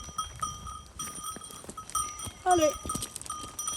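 A herd of goats walking with bells on a farm, a scatter of metallic ringing at an uneven pace, a brief bleat near the middle, and a voice speaking briefly to the animals.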